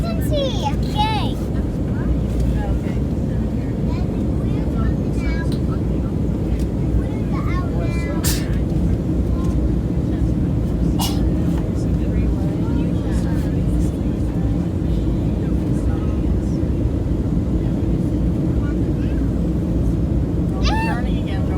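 Steady, loud airplane cabin roar runs throughout a flight as the plane turns over sand mountains and a river, with people talking over it.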